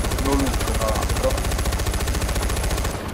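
Rapid automatic gunfire in Far Cry 4 rattles continuously and loudly, with a voice briefly speaking Italian over the shots.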